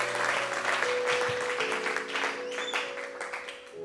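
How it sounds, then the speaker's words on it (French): A church congregation applauds during a French-language gospel service, a loud, steady wash of many hands clapping throughout, with sustained tonal sound from an organ or keyboard underneath that fades slightly toward the end. "Acclame le Seigneur Jésus"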